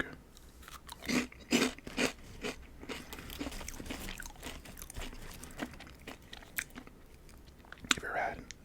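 Crunchy bites and chewing of Cheetos Flamin' Hot Chester's Fries, close and crisp, in a few bursts early on, with soft talk and handling noise in between.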